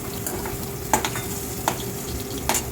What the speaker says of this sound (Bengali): চিংড়ি মাছগুলো এবার ভাজতে থাকতে আমি